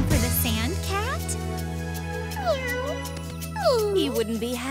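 A cartoon sand cat meows repeatedly at a zoo, with several rising and falling meows over a steady musical background, while a voice talks alongside.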